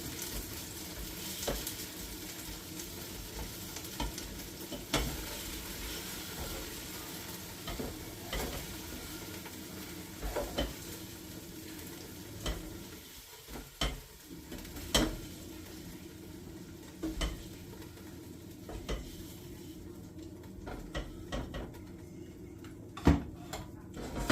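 Beef browning in a pan with olive oil for stew, a steady close sizzle and crackle with occasional sharp knocks and stirring scrapes running throughout, no speech.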